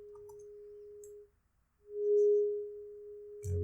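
A pure sine-wave tone from an Arduino-based hybrid FM synth oscillator, held steady, cutting out briefly, then swelling back louder and ending with a small click, with no voice.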